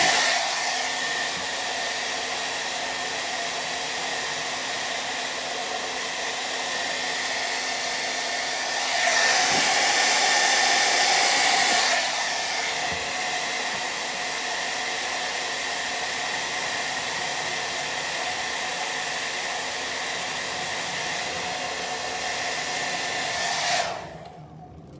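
A hair dryer blows steadily on old window tint, a constant whooshing hiss that briefly grows louder and brighter partway through, then clicks off near the end.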